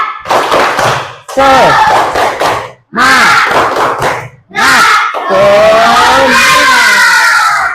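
A class of schoolchildren performs a loud spirit clap chant in four bursts of shouted group voices with brief pauses between, and a faint clap texture at the start.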